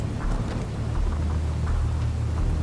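Heavy rain pours steadily with low, rolling thunder in the Modern Warfare 2 Campaign Remastered video game, forming a dense, constant storm wash with no voices over it.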